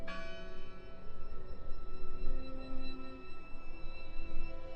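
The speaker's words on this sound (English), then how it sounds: "I heard the bell." Bell in the video game Draugen, a sustained metallic ringing with lingering tones, faint and distant over a soft rustling background, no talk.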